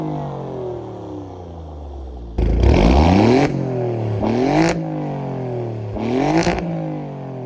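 A 2024 Alfa Romeo Giulia Quadrifoglio engine revs loudly, with three sharp throttle blips that climb and fall back to a steady idle between them. No one speaks over it.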